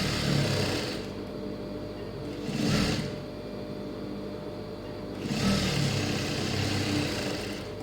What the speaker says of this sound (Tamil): இப்போ வந்து கொக்கி பீஸ் தைக்கிறோம்.